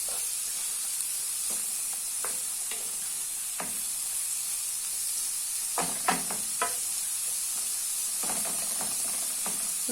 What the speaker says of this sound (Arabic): كنديروها تشحر مزيان